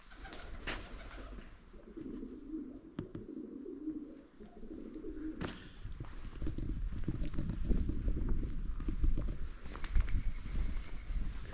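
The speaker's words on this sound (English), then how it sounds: "Got pigeons everywhere," Pigeons cooing inside a quiet medieval barn, soft intermittent calls with faint rustles over a low wind rumble, no voices.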